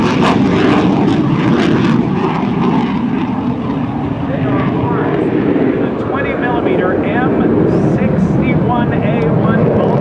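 F-15 Eagle fighter jets of the 71st Fighter Squadron flying at an air show, a loud, steady jet engine roar sustained throughout, with a commentator's voice faintly beneath.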